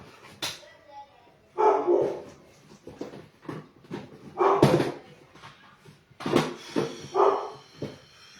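A dog barks repeatedly nearby in short bursts with gaps between, interspersed with a few whimpers and small yips.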